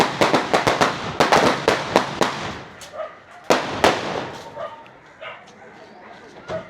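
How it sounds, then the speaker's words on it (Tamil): Rapid strings of sharp firecracker pops crackle in quick bursts at a Tamil wedding in Batticaloa, then scattered louder bangs follow, with voices and a dog barking in between. "என்ன வெடி கொடுத்துறாங்களா"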